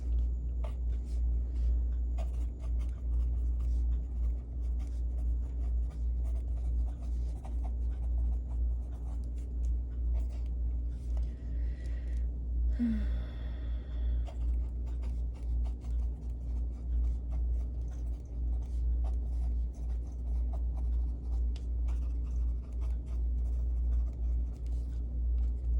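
Pen writing thoughts down on paper, faint scratchy strokes repeating irregularly over a low, steady background hum, with a brief rustle midway and no speech.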